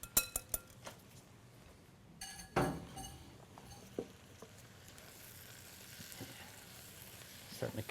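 Spinach leaves cooking down in a pan sizzle steadily, with a few clinks of a utensil and one sharper scrape early on, the frying hiss continuing alone.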